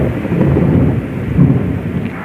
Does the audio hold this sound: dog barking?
no